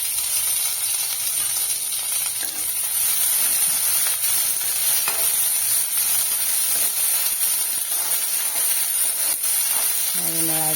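Raisins fry briefly in a pan while butterfly pea flower pulao is being cooked, giving a steady, even hiss and sizzle that runs throughout at moderate loudness.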